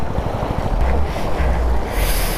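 A motorcycle crossing a deep, freezing-cold water stream on the road from Jispa to Sarchu near Baralacha La in Ladakh, with rushing water and wind noise close to the microphone, continuous and loud.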